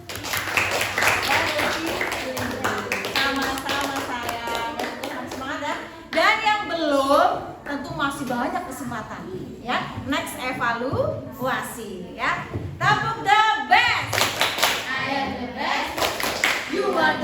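Children in a classroom clap hands in bursts mixed with lively talking and chanting voices, the clapping intermittent and partly buried under speech across the stretch.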